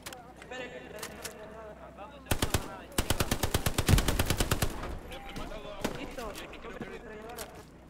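Bursts of automatic machine gun fire from the World War II shooter Hell Let Loose, a rapid close rattle of shots with short pauses between bursts, heard alongside voices talking during a simulated town-centre battle.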